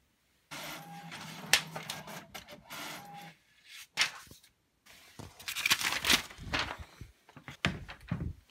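A home inkjet printer at work, giving a run of mechanical whirs, paper-feed rustles and clunky thunks in uneven bursts, close by and fairly loud, with short quiet gaps between passes.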